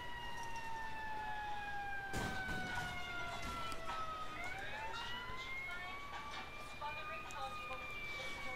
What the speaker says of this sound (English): Oh, there goes EMS right there.